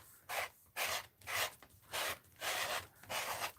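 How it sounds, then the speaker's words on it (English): Paint being scraped out on an art journal page, six quiet, rhythmic rasping strokes evenly spaced, close and faint with no voices. "instead of painting it, I'm just going to scrape it out"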